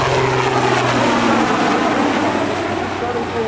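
SAAF Atlas Oryx helicopter flying past at an airshow, its engine and rotors a steady, loud, close roar with a constant hum that holds throughout.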